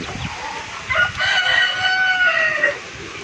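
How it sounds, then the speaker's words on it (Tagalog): Young duck chicks on a farm squabbling, giving loud, close, shrill peeping and squeaky cries that overlap in a busy burst lasting a few seconds, with no voices. "Oh, nag away na yung mga ano natin doon, no? Mga sisiw."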